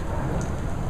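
Much-needed rain falls steadily in a broad, even hiss of drops striking surfaces outdoors, loud and constant with no pauses, and no voices over it.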